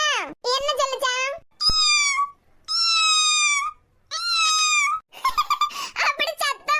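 A cartoon cat meows again and again in high, drawn-out, wailing cries voiced by a person imitating the animal, with short pauses between them and chattering voices near the end.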